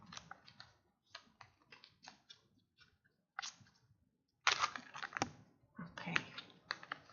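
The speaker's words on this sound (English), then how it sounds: "while I'm shuffling the cards right now" Soft riffling and slapping of tarot cards being shuffled in short bursts, close and quiet, with pauses between each shuffle.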